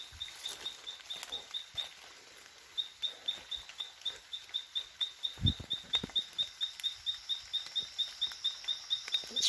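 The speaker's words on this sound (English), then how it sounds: "It's probably a frog, not a bird." A frog calling on a jungle walking trail, a steady train of short, evenly spaced high chirps repeating for the whole stretch, fairly faint under a soft background of insects and forest ambience.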